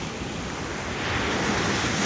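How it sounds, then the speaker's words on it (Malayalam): Seaside wind roars into the microphone beside the ocean, a loud, steady rush blended with breaking surf that swells slightly over the short stretch. "നല്ല കാറ്റുണ്ട്."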